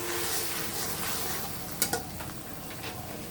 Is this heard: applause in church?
no